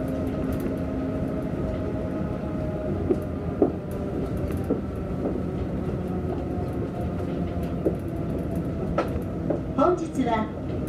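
Kitakyushu Monorail Kokura Line train running toward Kokura, a steady low rumble inside the car with faint clicks and a brief chime or tone near the end, no talk.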